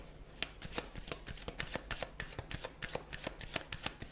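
Tarot cards are gathered and shuffled close by, giving a steady stream of quick papery riffles and soft slaps with no talking.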